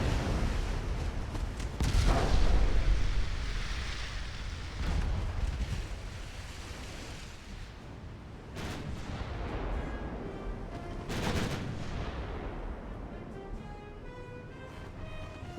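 Battleship guns firing in the naval combat game Ultimate Admiral: Dreadnoughts: several heavy booming salvos spaced a few seconds apart, loud against a constant wash of wind and sea ambience.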